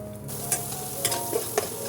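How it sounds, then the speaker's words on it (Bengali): Onion paste with ginger garlic paste fries in a pan over medium flame for a fish curry, a steady close sizzle broken by a few light stirring scrapes. "ওটাকেও দু মিনিট মতো আমি হালকা গরম মিডিয়াম আছে আমি ফ্রাই করছি"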